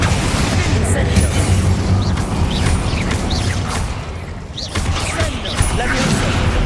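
Confringo and Incendio spell blasts go off in the Hogwarts Legacy video game during a boss fight, dense overlapping booms and crackling bursts under continuous combat noise, with a voice speaking over them.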